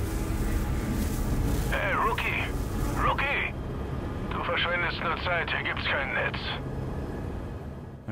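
A helicopter in the video game Far Cry 5 drones with a steady low rotor rumble throughout, while someone talks over it.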